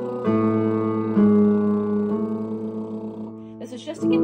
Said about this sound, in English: I'll do mine on like a lip buzzing or trill